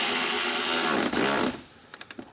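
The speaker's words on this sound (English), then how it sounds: "So now we can replace our bolt that holds the shroud to the radiator." A power tool whirs steadily as it drives the bolt that holds the fan shroud to the radiator of a 2004-2008 Ford F-150 with the 5.4L 3V engine, then stops, leaving a few quick metallic clicks.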